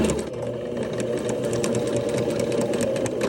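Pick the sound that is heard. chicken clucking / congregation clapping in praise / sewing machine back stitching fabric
sewing machine back stitching fabric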